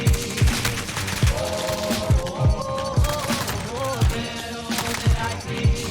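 SMG gunfire in the shooter game Warzone, with a steady stream of sharp shots and bursts, loud and close, partly mixed with a voice speaking.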